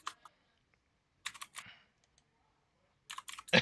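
Computer keyboard typing in several bursts of quick key clicks, separated by pauses, with a louder cluster of keystrokes at the end; close and clear, with no voices.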